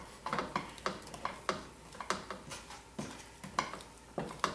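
A heavy wooden spoon scrapes and knocks through stiff, setting fudge in a large pan, giving steady rhythmic strokes about every half second with clacks against the pan, close up and with no talking.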